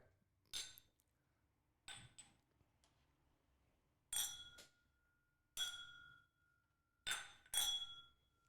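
Drinking glasses clink together in a bourbon toast, several bright, sharp chinks spaced a second or two apart, some doubled, each ringing briefly in an otherwise quiet room.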